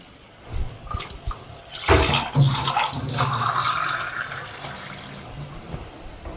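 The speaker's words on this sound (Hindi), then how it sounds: "बढ़िया से पानी डालते हैं ज़रूरत के अनुसार" Water poured into a cooking pot in a home kitchen before sealing it for a pressure cooker, a splashing, gurgling pour that swells after a few soft clinks and then thins to a trickle.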